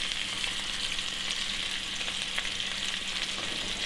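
Sausages sizzling as they fry in a pan, being turned often for even browning; a steady, dense crackle of hot fat holds constant throughout with no voices.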